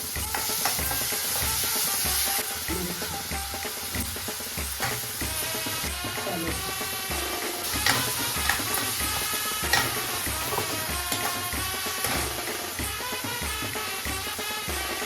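Garlic paste frying in a pan for Agri-style chicken kheema, a loud dense sizzle with constant scraping and stirring of a spoon against the pan.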